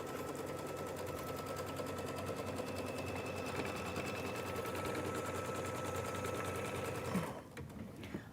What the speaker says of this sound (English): I am stitching my placement line for my project batting on my stabilizer